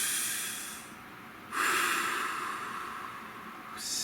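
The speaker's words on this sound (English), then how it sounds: "Nice deep breath." A deep breath drawn in and let out close to the microphone, two long airy swells of inhaling and exhaling with a pause between, no talk.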